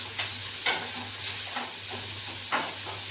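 Capsicum seasoned with salt and chilli fries in a pan for a homemade pizza, a soft, steady hiss over a low hum, with a few brief scraping stirs breaking through.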